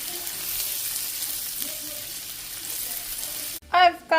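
Shallots and butter frying in a pan, a steady broadband sizzle with faint background voices; near the end the sizzle cuts off and a brief burst of louder sound follows.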